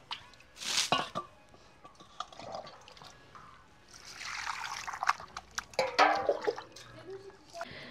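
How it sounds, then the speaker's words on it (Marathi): Boneless chicken pieces are rinsed with water in a kitchen, with scattered splashes, trickles and wet squishing in uneven bursts, fairly quiet and close, while a person talks softly at times. "हे बघा, एक पाण्याने धुवून झालं, घाण पाणी निघतंय, आपण डबल पाण्याने धुवून घेणार आहोत"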